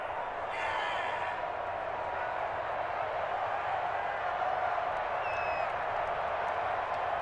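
Steady crowd applause and cheering fill a football stadium in Madden NFL 21 after a defensive stop, a continuous even roar with no breaks, with an occasional faint whistle over it.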